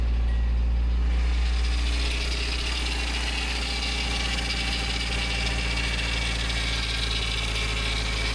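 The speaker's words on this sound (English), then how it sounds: "Pretty sure that's just pulley noise." A 1987 Nissan D21 pickup engine idles steadily after starting, giving a continuous rumbling hum with a whirring pulley noise on top. The sound is close, even and unbroken, and no one speaks.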